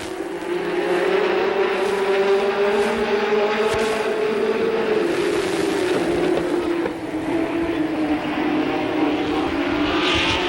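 Late model stock cars race around an oval track at Capital in 1985, several engines droning together in a loud, rising and falling roar as the pack passes.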